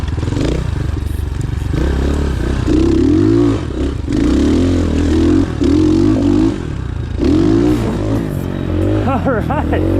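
A cheap Walmart 250cc motorcycle rides along loud and close, its engine revving up and dropping as gears shift, with clattering and wind over a steady drone.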